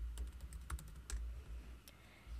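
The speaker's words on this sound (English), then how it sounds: "I will type in my ZPass." Keys clatter on a computer keyboard as a password is typed in, a quick irregular run of soft clicks at close range with a low background hum and no talking.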